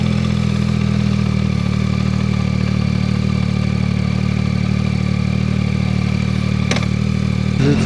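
A Yamaha Tracer 9 motorcycle engine running steadily, a loud, close, even drone with a deep low hum and a brief clattering tick near the end, no voices.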